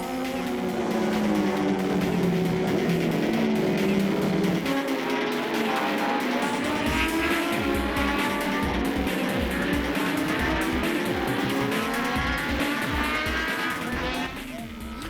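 Classic racing motorcycles, including a Kawasaki Z1000R, roar past on a New Zealand circuit at the Barry Sheene Classic, with loud engine notes rising and falling through gear changes, sustained and close throughout.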